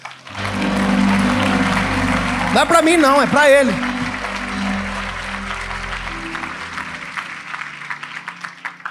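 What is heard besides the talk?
congregation applause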